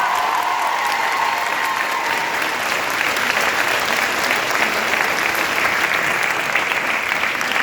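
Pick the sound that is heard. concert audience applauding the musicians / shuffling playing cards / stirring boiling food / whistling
concert audience applauding the musicians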